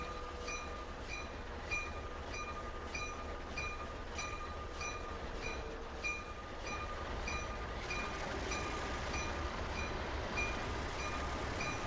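A New York Central passenger train in Train Simulator Classic runs steadily on the Boston–Albany line, with a continuous rumbling rail roar and faint regular clicks of wheels over rail joints, heard close and with no talking.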